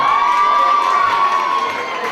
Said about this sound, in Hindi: मुझे जोरदार ताली हो जाए।